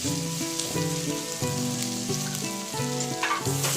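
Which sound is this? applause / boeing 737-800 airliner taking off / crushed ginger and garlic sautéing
crushed ginger and garlic sautéing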